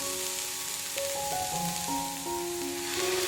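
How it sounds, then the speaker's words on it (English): Vegetables sizzle and fry in a pan with a steady crackling hiss under soft background music, no voices heard. "We cook the veggies to the point that they become a bit tender,"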